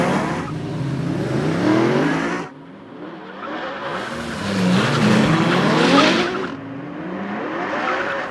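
A Ferrari F12 Berlinetta and a four-wheel-drive Porsche 911 Turbo S launch hard in a drag race, engines roaring loud and close with tire squeal and rising revs that cut briefly and surge again.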